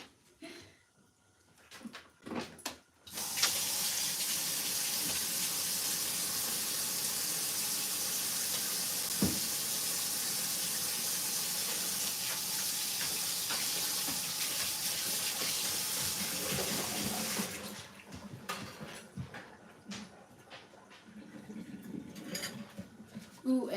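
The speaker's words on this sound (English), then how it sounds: "I'm gonna wash my hands." A kitchen tap runs in a loud, close, continuous hiss for about fourteen seconds while someone washes their hands during cooking. The water then shuts off, leaving quieter handling sounds.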